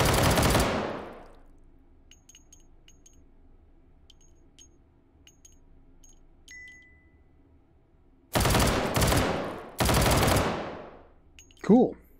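Desert Vulture pistol fired in the VR game Hot Dogs, Horseshoes & Hand Grenades, three loud close shots, one at the start and two spaced later, each with a sharp crack and ringing decay, separated by quiet stretches with small mechanical clicks and beeps.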